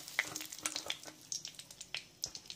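Dried red chilli pieces and bay leaves sizzle in hot oil while being stirred, soft crackles and spatters popping irregularly, quiet and close.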